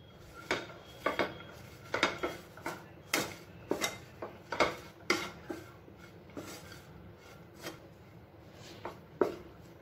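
Spoon scraping and clinking against a pan while vermicelli is stirred with black pepper and curry leaves, a series of sharp metallic taps and scrapes at an uneven rhythm, close and fairly quiet.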